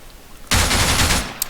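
A loud, sustained burst from a machine gun fired by a prone AI soldier in ARMA 3, rapid shots running together for about three quarters of a second before cutting off, with a faint echo afterward.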